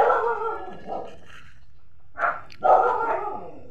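A dog on a spacious farm property in Taal barks in a few short bursts, fairly close and moderately loud, with quiet gaps between them and no talk over it.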